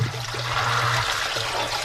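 A basement sump pump, switched on by its float once the basin water rises, pumps water out with a steady gushing, flushing rush and a low motor hum, close and continuous.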